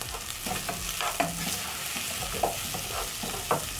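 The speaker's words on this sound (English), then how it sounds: "I'm going to give my meat a stir." A spoon stirring browning beef in a pot for a one-pot beef and rice dish: soft repeated scrapes and knocks over a continuous gentle sizzle, quiet and close.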